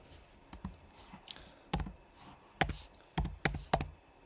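Keys on a computer keyboard are struck in a Linux terminal: sparse, separate clicks and taps at an uneven pace, close and fairly quiet, with short gaps between them.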